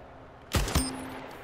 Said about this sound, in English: I'm gonna one tap everyone with my carbine